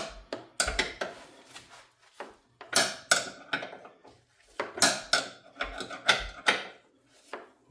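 A wrench loosens an 18 millimeter bolt on a car, giving close, irregular metallic clanks and knocks in separated clusters against a quiet background.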